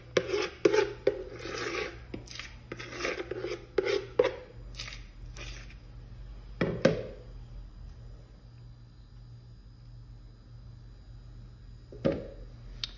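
A spatula scrapes low-carb chocotone batter from a bowl into a baking mold, bursts of short rasping strokes with clinks in the first half, then quieter with a couple of isolated knocks.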